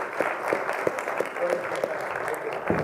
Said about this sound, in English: how about we give them a little warm applause to walk them up onto the stage?